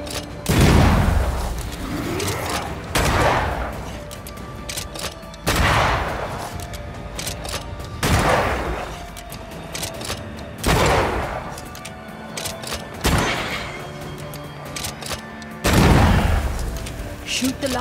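Rifle shots in the video game Banishers: Ghosts of New Eden, seven heavy booming blasts spaced roughly every two and a half seconds, each with a long decaying tail, over a faint game soundscape.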